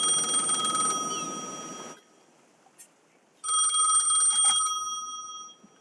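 Bright electronic telephone rings sound in two long bursts separated by a pause, loud and close, in a radio commercial, with no talking.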